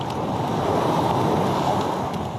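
Ocean waves on a beach heard during a morning beach run, a steady continuous roar of surf mixed with wind noise on the microphone, no voices.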